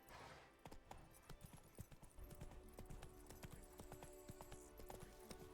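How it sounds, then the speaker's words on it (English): Horse hooves clip-clop steadily along a path in The Witcher 3, a rhythmic run of close, crisp hoofbeats with faint in-game ambience beneath and a brief tonal chime near the end. "see if I can fast travel without getting off the horse"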